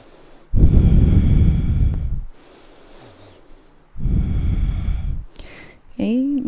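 Deep, forceful breaths in a yoga pose, with two long, loud, rushing exhales through the nose separated by a quiet pause, close to the microphone.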